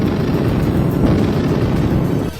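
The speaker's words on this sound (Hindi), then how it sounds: "भारतीय सेना ने नकली दुश्मन पर असली हमला किया और तोप से ताबड़तोड़ गोले बरसाए।" Artillery cannon firing shells during an Indian Army drill, a continuous loud rumbling barrage of booms with no pauses before it drops off abruptly at the end.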